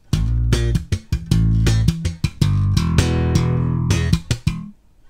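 A punchy bass guitar riff with short plucked notes and muted dead-note hits, played alone in a syncopated rhythm, close and fairly loud.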